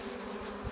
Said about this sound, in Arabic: النحل ما شاء الله